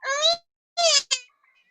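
A cat meows three times as a radio-drama sound effect, two drawn-out, wavering mews followed by a short clipped one, close and clear against silence.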